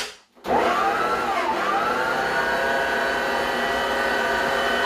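An electric mixer whisks buttercream with a steady, loud motor whir that starts after a brief pause and holds, its pitch dipping and rising slightly as the beaters work through the frosting.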